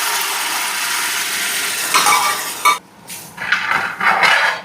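Cooked broken wheat is stirred through melted ghee in a pan for Kerala payasam, with a steady soft sizzle and then a few distinct scraping, clattering strokes of a spoon against the metal pan near the end.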